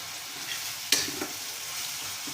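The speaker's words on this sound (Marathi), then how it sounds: "व्यवस्थित हा परतून घ्यायचा आहे" Vegetable bhaji stirring and frying in a pan, a continuous soft sizzle with one sharp scrape of the spoon partway through, close and alone.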